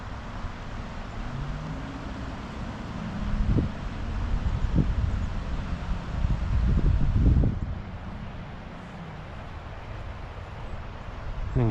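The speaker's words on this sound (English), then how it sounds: "That wind is making my tippet blow the other way" Wind blows steadily outdoors beside a trout stream, buffeting the microphone with low rumbling gusts that build in the middle and then ease off.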